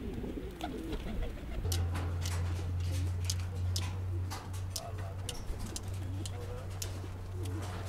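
Adana pigeons coo low and steady beside a constant low hum, with scattered sharp ticking and clicking sounds throughout.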